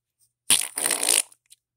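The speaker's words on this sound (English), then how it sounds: "Stop farting!" A loud, close fart bursts out alone, a sharp onset followed by a sputtering, wet-sounding rumble that lasts under a second before trailing off with a small blip.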